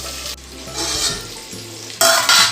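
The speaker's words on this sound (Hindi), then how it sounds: "तो देखिए कितने अच्छे से मेरे सब्जी जो है भून रहे हैं" Chopped vegetables fried in a pan while being stirred, steady crackling sizzle broken by scraping strokes of a spoon against the metal, close and fairly loud.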